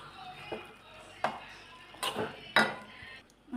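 A metal lid clanks onto a cooking pot of crushed beans with turmeric and salt, several sharp clinks and knocks of pots and utensils ringing out close by, spaced over a few seconds.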